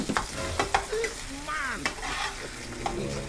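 Longganisa sausage sizzling in a pan while being stirred, with close scraping strokes of a utensil over a steady, moderate fry.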